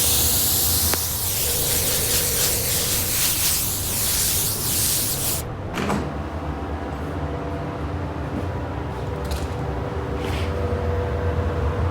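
Spray paint touch-up on a Mazda door jamb with a spray gun, a loud steady hiss for about five seconds, then a quieter, fainter background hiss.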